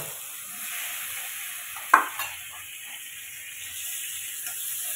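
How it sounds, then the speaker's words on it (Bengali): Potatoes frying in a pan for a Bengali prawn and potato curry, a steady soft sizzle with a brief clatter of stirring near the start, no voices. "আলুটা দিয়ে আমি 1 মিনিট মতো ভেজে নেব।"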